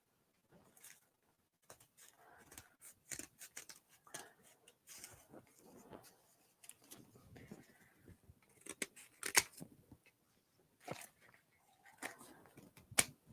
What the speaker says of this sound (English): 6 bags is a whole lot easier to cut through.